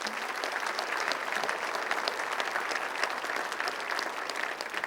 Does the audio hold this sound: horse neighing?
no